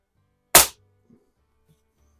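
A single sharp shot from a Gamo 126 Super Match single-stroke pneumatic target rifle fired in a garage, loud and close, with a quick decay and a faint thud from the target afterward.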